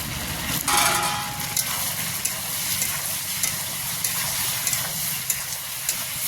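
Chicken with ground ginger and fried potatoes is stir-fried in a pan over a wood fire, giving a close, continuous sizzle with scraping stirs and occasional spoon knocks throughout.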